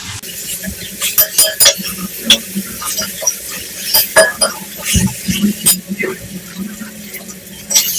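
Masala and vegetables roasting in a pan together, with frequent clinks and scrapes of a spoon stirring against metal over a soft sizzle, close by.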